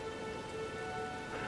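Steady rain in the video game Elden Ring makes an even, continuous hiss over faint tonal hum, without voices.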